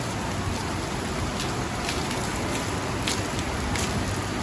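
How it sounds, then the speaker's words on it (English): Steady, loud rain pours down during a Florida thunderstorm beside the Manatee River, a dense continuous hiss with scattered louder drops and no voices. "this is a good old Florida storm right here"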